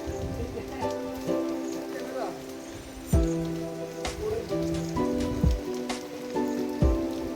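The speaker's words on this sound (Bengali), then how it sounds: "আমি কিন্তু বৃষ্টিতে ভিজে গেছি" Rain falls steadily outdoors at a hilltop viewpoint in Thanchi, Bandarban. The patter is soft and continuous, and sharp drips or knocks come through now and then alongside a tonal hum and background voices.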